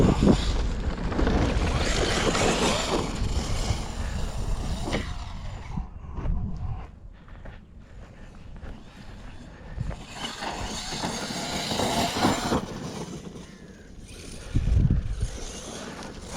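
A Hobao Hyper MT Sport RC truck fitted with a central differential revs hard in a forest while its wheels spin without grip. The motor whines loud and close, surging and dipping over steady wind noise.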